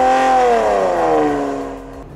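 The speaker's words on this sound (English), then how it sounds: "if you had to put a sports exhaust system on a flat 12 Ferrari Testarossa, the noise is amazing" Ferrari Testarossa flat-12 engine fitted with a sports exhaust revs loudly and close, a rising harmonic howl that peaks and then slowly falls away as the pitch drops over about two seconds.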